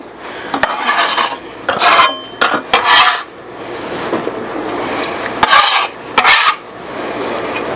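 Stirring mushrooms into a pot of creamy turkey noodle soup, with bursts of close, loud rasping scrapes from a utensil against the pot that start and stop in an uneven rhythm.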